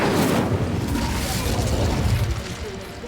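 The Incendio fire spell is cast in Hogwarts Legacy, a loud roaring burst of flame that rushes in at once and then tapers slowly over a few seconds, close and dense, with no talking over it.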